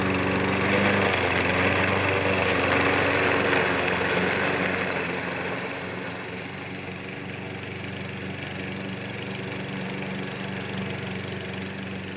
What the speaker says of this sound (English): I'm mowing it over and over again as I progress with the mowing operation.